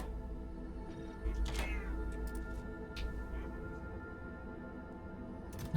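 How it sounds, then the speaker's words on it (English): A cat gives a single drawn-out whiny meow close by and fairly quiet, rising and falling over a steady low background hum, with a few faint clicks afterward. "My whiny crybaby cat."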